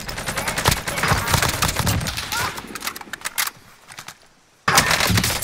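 Rapid gunfire rattles through a battle royale video game in dense bursts, mixed with voices talking over it, briefly dropping to near silence before the shooting resumes loudly.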